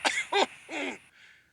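A feeble, wheezy cough voiced by a narrator playing a steam engine in a children's train story, three short harsh bursts followed by a softer trailing breath, close and alone.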